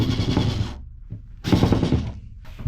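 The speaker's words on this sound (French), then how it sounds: "J'ai sorti ma mini perceuse électrique Dexter." A Dexter mini cordless USB-rechargeable electric drill fitted with a scraping bit runs in two loud, close whirring bursts separated by a brief pause, with a third starting at the end, during van insulation work.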